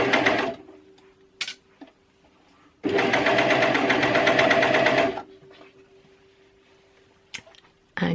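Coverstitch sewing machine stitching slowly over a fabric seam on a stretchy vest, with a short burst, then a longer steady run of rapid mechanical whirring between quiet pauses.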